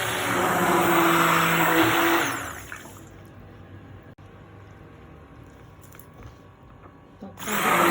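A stick blender whirs loudly through activated charcoal soap batter for about two seconds, then cuts out, leaving quiet clinks and handling noise before a brief restart at the end.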